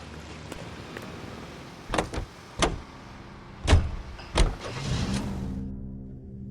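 A car in the L.A. Noire video game: doors open and shut with several sharp thumps and a power-window whir, then an engine starts and settles into a low rumble before fading out.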